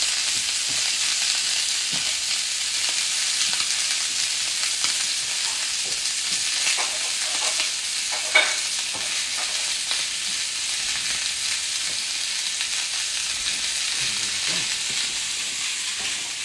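Beef sears in a hot pan, browning on all four sides with aromatics added, producing a steady, bright sizzle and crackle with occasional stirring clicks throughout, unbroken by speech.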